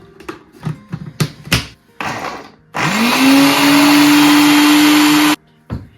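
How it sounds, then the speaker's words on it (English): Close, loud blender whirring steadily for a few seconds as it blends homemade hazelnut spread with a drop of vanilla extract, after some knocks and clatter of preparation, then cutting off abruptly. "Let's blend that up and then we'll add the golden syrup."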